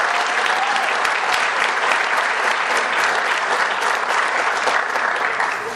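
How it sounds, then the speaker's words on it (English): Gala audience at an anniversary dinner breaking into full applause, a dense, even roar of many hands clapping close and loud throughout, tapering slightly at the end. "Another round of applause for everyone,"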